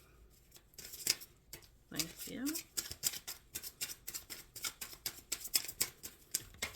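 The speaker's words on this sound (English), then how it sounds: "Shuffling for Libra." Close, quiet hand shuffling of a tarot deck makes rapid papery slaps and riffles in a steady rhythm, with a brief spoken word partway through.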